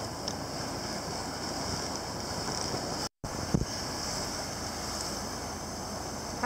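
A boat heads upriver toward Norfolk and Portsmouth past naval ships, its steady engine drone and water wash running under constant wind buffeting the microphone, with a brief dropout midway.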